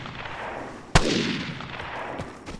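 A single sharp gunshot cracks out in the Vigor video game, its echo rolling off across a snowy map and trailing into distant battle noise.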